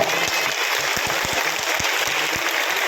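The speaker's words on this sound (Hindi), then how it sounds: "आप अपनी ही तालियों से अपना स्वागत कर कीजिएगा।" An audience claps at a Hanuman idol consecration festival in Shakkargarh, a thick, even wash of applause with some heavier, nearer claps thumping through it, and no speech.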